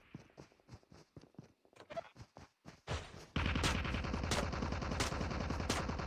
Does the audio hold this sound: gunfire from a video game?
yes